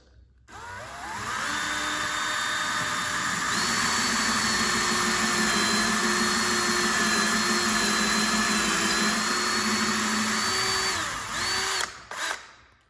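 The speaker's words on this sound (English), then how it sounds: "I'm gonna drill 3/16 inch holes to secure the anchors." A power drill whirs steadily at high speed for about ten seconds, drilling 3/16 inch holes in a wall for anchors, loud and close, then winds down and stops.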